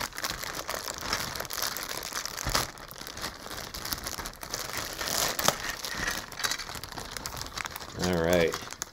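Plastic packaging around a model kit figure of Atlantis' Mouse Fred Flypogger crinkles and crackles almost continuously up close, with a brief voice near the end.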